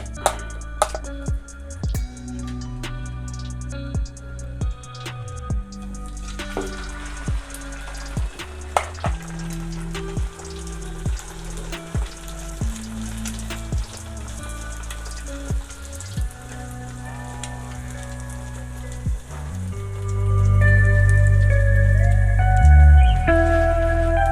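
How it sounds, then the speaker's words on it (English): An omelette mixture cooks in a pan, with a constant sizzle under regular clicking and tapping. The frying swells louder near the end. "Then I take my mixture and spread it evenly on the pan."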